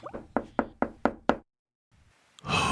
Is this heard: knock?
yes